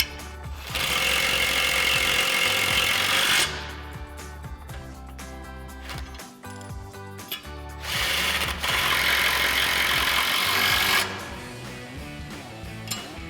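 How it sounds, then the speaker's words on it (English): An impact wrench with an 18mm socket and extension drives bolts on a 2021-2023 Ford F-150 front bumper, giving two long loud rattling hammer bursts with a quieter, clanking pause between them. "use our 18mm socket and extension on our impact and a 19mm wrench to tighten these down"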